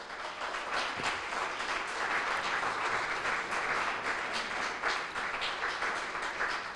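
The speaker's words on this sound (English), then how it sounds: "So all of us together really want to give Michelle a round of applause for her persistence." Steady round of applause from an audience at an environmental town hall, continuous dense clapping sustained at an even level throughout, fairly distant and without talk.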